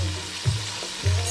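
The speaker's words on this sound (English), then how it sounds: "So we're going to wait for that to fry up a little bit" Nigerian fried rice ingredients frying in a pan, a steady hiss of sizzling oil with a couple of soft low thumps from stirring, close and continuous.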